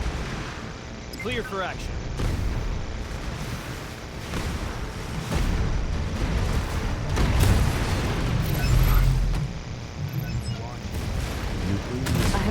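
Gunfire and booming explosions from a naval battle in the video game Anno 2205, with repeated blasts and rumbling impacts throughout, heard under a voice speaking game commands.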